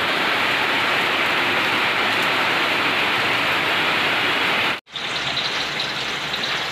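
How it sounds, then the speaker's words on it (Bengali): Heavy rain pouring down outdoors, strong enough to bend a tree: a dense, loud, continuous hiss with a momentary break near the end, no voices. "দেখো কি বিশাল বৃষ্টি হচ্ছে।"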